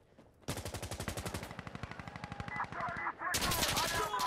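Rapid automatic gunfire in the video game Insurgency: Sandstorm rattles in a long burst, followed by more shots and metallic clatter, loud and close.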